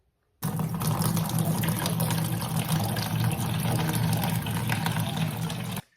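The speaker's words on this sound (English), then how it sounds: "I'm gonna dump all of this water out." Soaking water poured out of a container of sprouting barley grain, a continuous loud splashing gush that starts abruptly, runs for about five seconds without a break, then stops.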